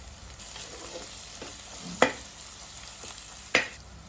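Onions fry with ginger-garlic paste in a pan for a Telangana country-chicken curry, giving a soft, even sizzle. Two sharp metallic clinks of a spoon against the pan cut through near the middle and end.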